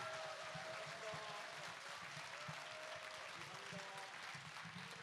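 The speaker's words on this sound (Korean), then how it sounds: "여러분들께서 우리 이충렬 이사장에게 힘찬 박수로 그 장도의 길을 축하해 주시면 감사하겠습니다." At a book launch talk show in a hall, an audience gives steady, sustained applause that sounds faint and distant, with some voices faintly audible beneath it.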